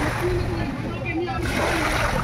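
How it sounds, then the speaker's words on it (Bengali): Waves from a passing ship breaking on the Bhagirathi river shore, a continuous close sloshing and splashing of water, with a voice speaking over it. "জাহাজটা গেল সেই ঢেউটা আসতে দেখো"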